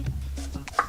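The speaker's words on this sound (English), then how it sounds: "I'm basically just chopping around that root like so" A knife chops an onion around its root end on a board: a few quick, close knocks and cuts in under a second, with no speech.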